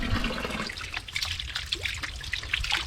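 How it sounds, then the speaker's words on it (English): Water trickling and splashing from a village water source outdoors, a continuous close babbling flow with small irregular drips. "The good thing is that we have free water flowing everywhere"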